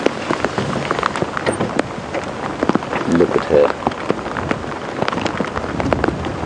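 Steady rain pattering on a surface during a morning safari drive at Djuma Game Reserve, a dense continuous hiss of drops with a brief voice speaking over it.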